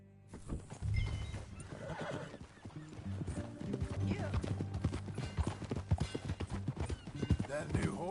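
A horse in Red Dead Redemption 2 clip-clops along at a steady ride, with dense rhythmic hoofbeats, a neigh, and game speech and ambience mixed in.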